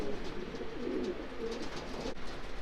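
Racing pigeons in a small loft coo softly and steadily, a low burbling murmur that is faint and close-by, with no voices.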